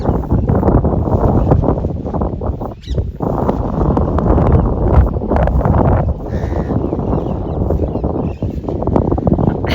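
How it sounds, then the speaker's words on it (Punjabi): Strong wind gusting across an open farm field, a loud continuous broadband roar with buffeting against the microphone that dips briefly near three seconds before surging again. "ਹਵਾ ਇੰਨੀ ਜ਼ਿਆਦਾ ਤੇਜ਼ ਆ ਪੂਰਾ ਧੱਕਾ ਪੈ ਰਿਹਾ"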